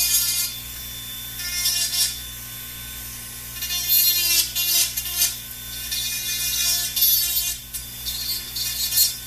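A dental bur trims excess acrylic from an orthodontic appliance near its wire, a thin high-pitched whine that rises and dips in short bursts as the tool touches the material, over a steady low hum.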